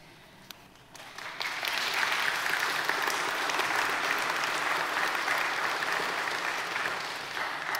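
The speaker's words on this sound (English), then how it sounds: "in the midst of people clapping" Applause swells up in a United Methodist church congregation: a quiet start with a few stray claps, then many hands join into loud, sustained clapping that holds steady before easing slightly at the end.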